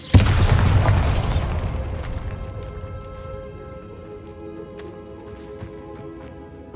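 Bombarda spell blast in Hogwarts Legacy inside a crypt with an altar and sarcophagus, a loud booming explosion that hits at once and rumbles away, followed by scattered debris clinks and settling rubble.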